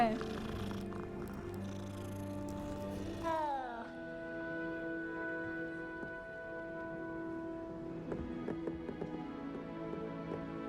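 Cats purr softly in Hogwarts Legacy, a steady low rumble beneath game music and a player's talk.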